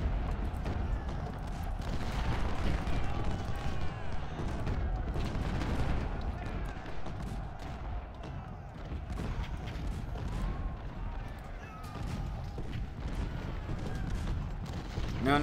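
Cannon and musket fire rumbles continuously in Ultimate General: Civil War during a battle at Cemetery Ridge, with dense overlapping booms and crackles in a constant loud din.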